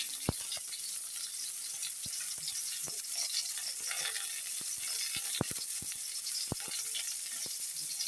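Green chillies and vegetables frying in a pan for a tomato and aubergine mash, a steady close hiss of sizzling oil, punctuated by scattered sharp pops and crackles and the occasional scrape of stirring.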